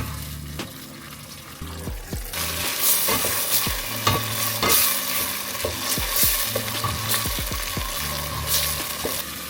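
Browned onions with tomato paste fry in a pan for chicken curry, steady sizzle with repeated close scraping stirs of a spoon, after a quieter moment at first.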